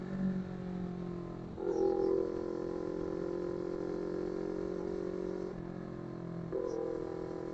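CFMOTO 400NK motorcycle engine on a night highway speed run, a steady droning hum with two surges as revs rise, held at a constant loud level throughout.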